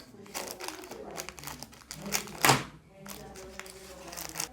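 Plastic packaging and tape on a Beyblade Astral Spriggan Over Quattro-0 customize set crinkle and crackle as they are torn open. The rustling comes in close, uneven bursts, with one louder rip near the middle.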